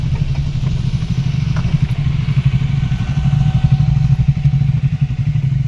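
Motorcycle engines rumble and putter close by on a hill road near a cardamom plantation, a loud throbbing low drone with some clatter that swells toward the end, no speech.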